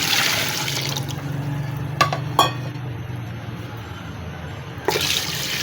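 Water pours steadily into a pot of chicken for pulao, a continuous splashing hiss, punctuated by a couple of sharp metallic clanks of cookware.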